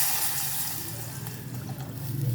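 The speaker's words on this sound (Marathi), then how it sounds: "आता आपण पाणी वरती घेतो." Water is poured into a pot of peanut curry topped with crushed peanuts, a soft trickling and splashing pour near the microphone that builds slightly, with no speech.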